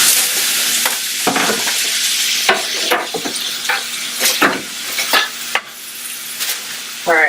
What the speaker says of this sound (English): I'm going to cook it to like render the fat off of it